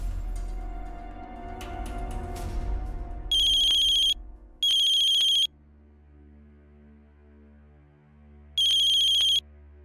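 A phone ringtone for an outgoing call rings out in three loud, clean bursts with gaps between them, following an indoor room hum and without any talk.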